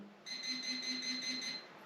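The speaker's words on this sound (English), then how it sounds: "the vibrate and beeping mode" A DR Otek MT6 Pro pinpointer metal detector set to vibrate and beep mode sounds a quiet, rapid train of about seven short, evenly spaced electronic beeps after a brief lull.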